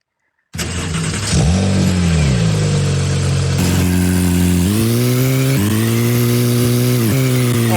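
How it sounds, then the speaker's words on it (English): A video game car engine starts and revs, loud and close, with rising and falling pitch sweeps that settle into a steady idle, then surges several times in quick succession. "the car has the sounds of revving and starting"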